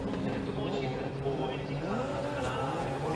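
Nissan S15 drift car at a Formula Drift Japan qualifying round at Okayama, its engine droning and rising out of a chicane with faint tire noise, under continuous commentary.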